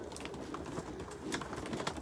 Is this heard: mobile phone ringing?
no